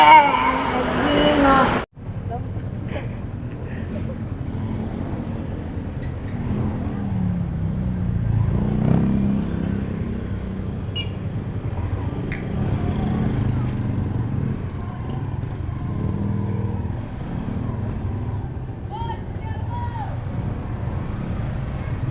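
A motorcycle rides through heavy road traffic near Banaba, with a steady engine drone and wind rush under passing vehicles, after a brief loud burst and a sudden cut near the start.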